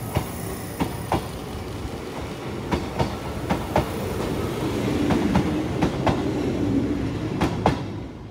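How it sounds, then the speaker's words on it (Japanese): A Kintetsu 16000 series limited express train passes at a steady pace, its wheels clicking rhythmically over rail joints in regular pairs, moderately loud and without voices. "続いて吉野神宮駅で桜の開花シーズンに運転される臨時快速急行桜号とすれ違います"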